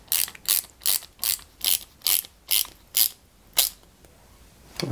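A ratcheting screwdriver clicks in about nine evenly spaced bursts while driving a type D screw into the rear of a 1989 Batmobile scale model, close and crisp with nothing else over it.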